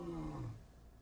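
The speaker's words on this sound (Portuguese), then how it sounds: "Seaboy começou a rugir." A male lion roaring in the Serengeti, a single deep, drawn-out rumbling call that fades away, heard from a moderate distance in the open.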